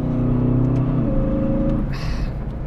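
An Aston Martin DBX 707 SUV with a 4-litre twin-turbo V8, its engine droning loud and close with a deep rising pitch before easing off, followed by a short airy whoosh.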